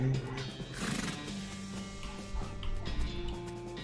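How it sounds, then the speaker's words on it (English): A horse neighs and whinnies in the West of Loathing video game, with clip-clopping hooves, loud and steady across the clip over a layer of game music. "Get on the damn horse, please."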